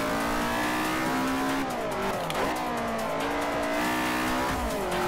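In the racing video game Forza Motorsport 4, a car engine revs and shifts through gears with a continuous buzzing drone, while tires squeal in the background.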